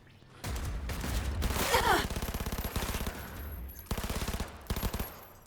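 Rapid automatic gunfire in the video game Cyberpunk 2077, loud close bursts of evenly spaced shots separated by short pauses, with a brief sweeping effect early on.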